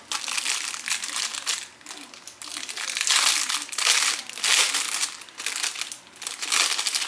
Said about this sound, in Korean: 조금 전에 이렇게 제가 준비했던 펜이 이렇게 자, 이렇게 들어가는 겁니다